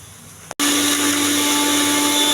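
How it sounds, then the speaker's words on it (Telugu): A mixer grinder loaded with coconut, peanuts and salt starts abruptly after a brief pause and runs loud and steady with a constant whine. "మిక్సీ వేసుకోవాలి."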